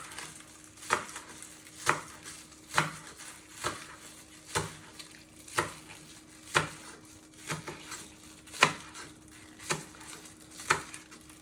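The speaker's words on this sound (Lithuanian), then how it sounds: "Pjaustau svogūnų laiškų, kad būtų gražu." A knife chops spring onions on a board in evenly spaced, sharp knocks, about one every second, close and clear over a faint steady hum.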